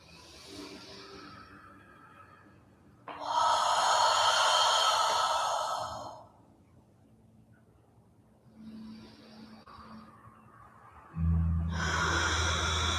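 Slow, deep breaths during a yoga flow, long audible exhales and inhales rising and falling in steady cycles, close and fairly loud, with no talking.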